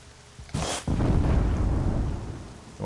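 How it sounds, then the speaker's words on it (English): Rain and thunder in the video game Horizon Zero Dawn: a sharp crack followed by a deep rolling rumble over a wash of steady rain, loud and close. "the rain is going to slow down that fire"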